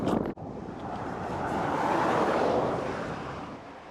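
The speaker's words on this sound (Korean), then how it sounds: "그 말인 즉슨 저는 지금 순풍을 받고 있다는 것이죠" Wind from a tailwind rushes past a touring cyclist on an open road in Central Asia, a loud steady roar that swells and fades, with a sharp knock near the start.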